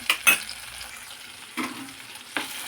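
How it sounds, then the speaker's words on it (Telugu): Green chillies fry in a pan for a pizza sauce: a quiet, steady sizzle broken by a few short scraping stir sounds, with no talking. "కొంచెం మిరపకాయలు కూడా వేగనిస్తాము"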